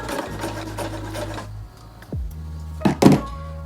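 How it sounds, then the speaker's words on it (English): A sewing machine understitches a seam allowance on a corset-top midi dress, running steadily, then stopping with a thunk and some handling clatter before a few brief bursts. "I'm also going to understitch the seam allowance"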